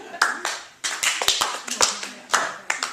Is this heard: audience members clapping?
yes